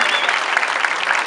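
Applause from a folk festival audience at a traditional dance event, a steady dense wash of clapping heard up close with no voices over it.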